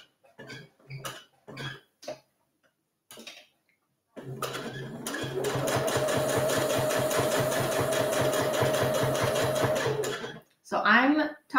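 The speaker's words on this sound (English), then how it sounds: "So I'm top stitching as far as I can before this hand sleeve gets in the way." A sewing machine top stitches a fabric coffee cup cozy, running in one steady, fast burst of mechanical stitching for several seconds, framed by short coughs and handling noises before and after.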